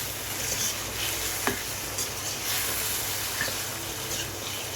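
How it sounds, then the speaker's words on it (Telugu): Chicken cooking in a pan of fried onion and tomato gives a steady, low sizzle throughout, with a few faint stirring clicks and scrapes near the mic and no voices. "ఈ పోపులో అయితే ఈ చికెన్ వేసి నేను మూత పెట్టి అయితే మగ్గించుకుంటున్నాను"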